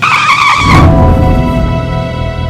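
A car's tires squeal sharply for under a second, then give way to a rough, rumbling skid as the vehicle comes to a stop, loud and close.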